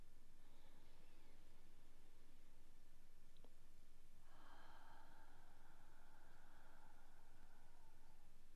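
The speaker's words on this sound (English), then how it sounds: "Take your 3 deep inhales and exhales now." A slow, deep breath during a yoga session, very quiet and close, with a faint airy inhale that swells into a longer, breathier exhale over low background hiss.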